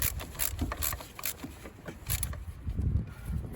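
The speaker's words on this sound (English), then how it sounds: "Now we can tighten up the hold down bolts here." Ratcheting and metallic wrench clicks come in short repeated bursts as hold-down bolts are tightened on the power steering belt tensioner of a classic Mercedes W126, close up with a low rumbling background.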